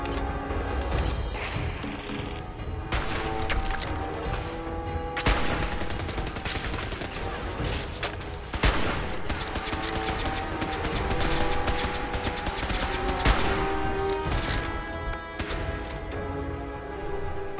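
Companion Strong firing a gun during a Fallout 4 fight, a dense, loud run of shots and crashing impacts over continuous game noise and music for the whole stretch.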